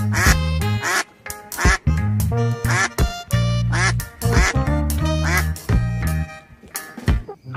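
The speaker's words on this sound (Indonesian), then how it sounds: "ternyata ini anak bebek" A toy duckling, one of several toys found in bushes, quacks loudly and repeatedly in quick bursts with short gaps, close and with no talking.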